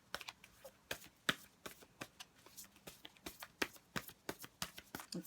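Tarot cards are shuffled close up, a quick series of crisp papery riffles and flicks at an uneven rhythm, fairly quiet, with no voice over them.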